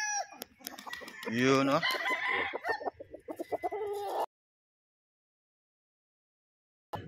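A bullstag rooster clucks and makes short crowing calls up close, loud and clear, with a person speaking briefly over it before the sound cuts to silence.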